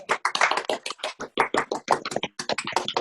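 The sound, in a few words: Zoom participants unmuting to applaud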